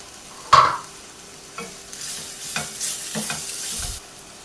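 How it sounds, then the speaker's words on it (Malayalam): Onions sauté in a pan with a handful of mint leaves for a chicken curry, with a sharp scrape at the start followed by several spoon stirs over a soft sizzle. "ഉള്ളിയൊക്കെ വഴണ്ട് വരുന്നുണ്ട് ഇതിലേക്ക് നമുക്ക് ഒരു പിടി പുതിനയില ഇല ഇട്ട് കൊടുക്കാം"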